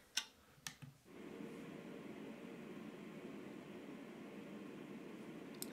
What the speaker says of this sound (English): and just sounds like white noise to me